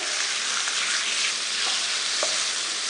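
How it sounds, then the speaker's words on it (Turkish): Meat pieces searing in hot oil for Turkish çökertme kebab, giving a steady, dense sizzle throughout with a few brief crackles and stirring touches, close and fairly loud, no talking. "ısınan yağa etlerimizi ilave edip hemen hızlıca çeviriyorum"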